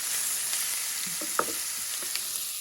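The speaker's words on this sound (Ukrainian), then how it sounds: "Я тримаю пательню на сильному вогні, щоб сало не витоплювалося, а добре підрум'янилося" Pork belly fat frying hard in a pan over high heat, a constant crackling sizzle with a few light clinks of stirring.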